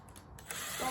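Bolts being undone on the top of a CB6900 sewing machine, a short metallic ratcheting turn of a tool building up over about a second, close by with no talking.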